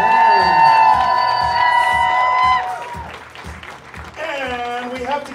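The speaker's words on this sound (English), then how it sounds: "let's give them the biggest round of applause for the evening" Audience applause and cheering at a burlesque show curtain call, loud and crowd-filled, with shouts and whoops over steady clapping and a voice talking through it.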